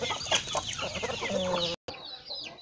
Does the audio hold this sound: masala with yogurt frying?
no